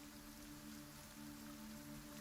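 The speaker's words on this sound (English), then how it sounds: "Ignore the sound of the rain." Steady rain in a small woodland area on a chilly fall day, a soft continuous wash of drops with faint tonal hum underneath, with no voices.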